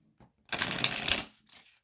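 A deck of manga-style tarot cards being shuffled by hand, one loud dense riffling burst of about three quarters of a second, close up, with a few faint card taps before and after and no talking.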